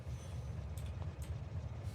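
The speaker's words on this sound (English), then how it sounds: "now that train should just come right in" A train rolling into a station in the video game Factorio, heard as a steady low rumble and rolling hiss with a few faint squeals and clicks, fairly close and continuous.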